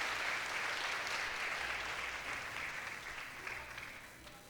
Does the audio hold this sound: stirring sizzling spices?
no